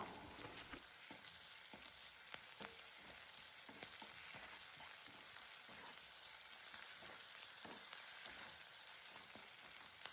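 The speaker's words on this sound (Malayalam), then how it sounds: "പത്തോളം വെളുത്തുള്ളി ചതച്ചത് രണ്ട് പച്ചമുളക് ചോപ്പ് ചെയ്തത് കുറച്ചധികം കറിവേപ്പില ഇത്രയും ഇൻഗ്രീഡിയൻസ് ചേർത്ത് ഒരു പത്തോ പതിനഞ്ചോ സെക്കൻഡ് മാത്രം നമുക്കൊന്നിളക്കാം" Crushed garlic, chopped green chillies and a good handful of curry leaves stir-fried in hot oil, a steady faint sizzle with soft scrapes of a spoon, no talking.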